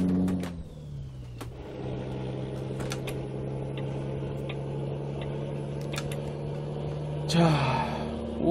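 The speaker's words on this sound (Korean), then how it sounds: "무엇보다도 엔진 소리도 좋아요" A Volkswagen Titan truck engine in Euro Truck Simulator 2 hums at a steady low idle, with a brief shift in pitch early and a rev swell near the end, over scattered clicks and ticks.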